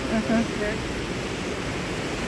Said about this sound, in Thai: นี่นี่เราเจอน้ำตกแล้ว